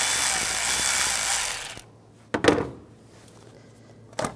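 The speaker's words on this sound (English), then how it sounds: "Using an 8mm socket, loosen up this worm clamp." A power tool with an 8mm socket whirs for under two seconds to loosen a worm clamp on a Dodge Dart engine, then stops, followed by a couple of short metallic clunks and knocks.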